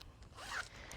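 A pencil pouch zipper is pulled open in one quick, close rasp, quiet and alone with no talk.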